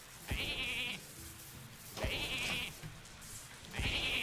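Sheep bleating in the Hearthstone video game, three separate short bleats spaced about two seconds apart, clear and close over quiet game background.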